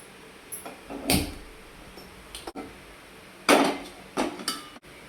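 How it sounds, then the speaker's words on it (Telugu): A kadai is set down on a lit stove with a few sharp metallic clanks and knocks, spaced irregularly against quiet kitchen background. "స్టవ్ వెలిగించి కడాయి పెట్టుకోవాలండి"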